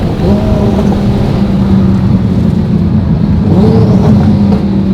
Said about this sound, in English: A downshift, nice blip, wasn't too off. Sounds good.